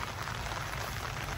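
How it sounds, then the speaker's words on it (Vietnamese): Rain falls outdoors at night in Vietnam, a steady, dense hiss of drops pattering on surfaces, continuous and moderately loud without pauses. "Mưa các bạn, đang mưa nè."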